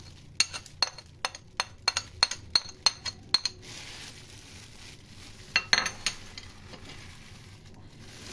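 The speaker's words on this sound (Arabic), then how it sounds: "نخلط كل ده" A utensil clinks repeatedly against a bowl while chicken is mixed with lemon juice, salt, pepper and spices for chicken panee: a quick run of sharp taps, a quieter stirring stretch, then a few more clinks.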